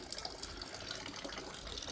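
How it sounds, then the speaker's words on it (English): A small water feature in a front garden of a North Bali home trickles and splashes continuously, a steady close wash of running water with no voices. "Let's give you a quick look at his front garden, little water feature"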